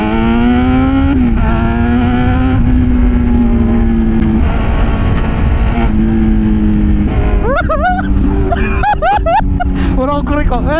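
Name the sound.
big bike motorcycle riding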